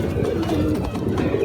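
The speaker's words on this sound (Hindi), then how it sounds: "इतना कड़वा कबूतर है" Pigeons held in the hand during a close look at a pair of birds, giving low, soft cooing and murmuring that runs steadily through the moment with no talk over it.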